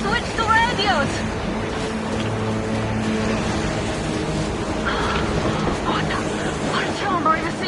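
Blizzard wind roars in Metro Exodus, a dense, loud, rushing howl that stays constant throughout, with voices talking over the storm.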